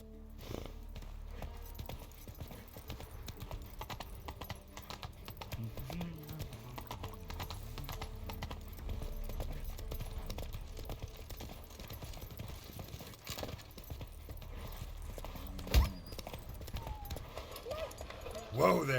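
Geralt's horse Roach canters in The Witcher 3, rhythmic hoofbeats close by under soft game ambience, ending with a faint whinny as the rider talks.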